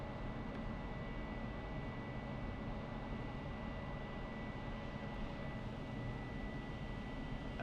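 ME100 rotor machine running at about 150 RPM, a steady droning mechanical hum with constant low rumble and faint tonal whine, unbroken and fairly close, no voices.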